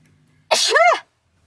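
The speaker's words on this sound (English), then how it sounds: "have to sneeze" A single sharp sneeze, close and loud, bursting out of near silence and cutting off quickly.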